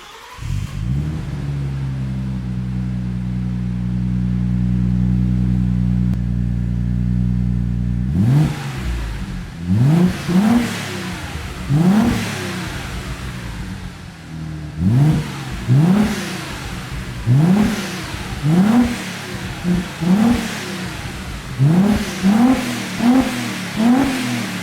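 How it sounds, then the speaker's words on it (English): An Audi B5 S4's V6 engine idles with a steady low drone, then revs repeatedly in short bursts, each rising and falling, several in quick succession, close by. "It's too quiet for a V6, especially an S4."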